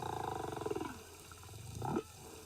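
A whale song phrase, faint and distant, with a low growl that bends downward and then a short rising purr-like bark, a humpback-style call pattern that has changed over time.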